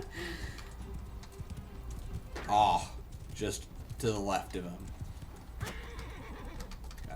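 A horse in a video game battle whinnies and its hooves clip-clop, a short neigh rising among busy game noise while someone talks over it.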